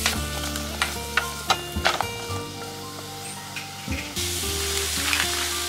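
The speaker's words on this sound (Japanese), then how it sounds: "鍋に油を熱し、にんにくを弱火で炒めて香りが立ってきたら野菜を加えて中火で" Vegetables and garlic sizzle and crackle in hot oil in a pan over medium heat as they are stirred, with scraping pan noises and a constant frying hiss, while soft music plays underneath.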